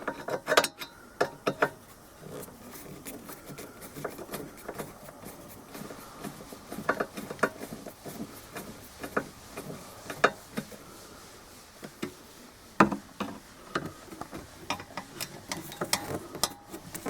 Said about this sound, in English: I'm going to take this little bracket off with a hex head screwdriver